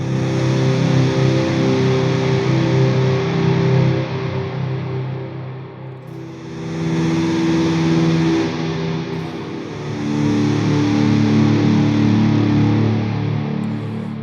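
Electric guitar through heavy distortion with the tone knob turned fully down, a thick, dark, aggressive sustained tone played in chugging phrases that swell and dip, loud and alone with no talking.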